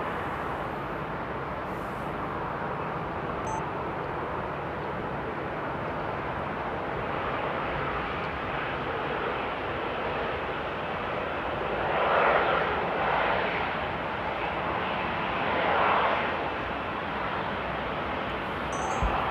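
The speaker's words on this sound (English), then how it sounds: "we do have a KLM 737-700 lining up" A KLM Boeing 737-700 airliner at Amsterdam Airport gives a steady, moderately loud engine rumble, probably lining up on the runway, with two slight swells in intensity near the end.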